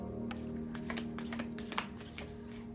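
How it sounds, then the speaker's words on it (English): Tarot cards riffled and shuffled by hand, a run of soft crisp flutters and slaps close by at low volume over a faint steady hum. "Usually I shuffle these cards way more."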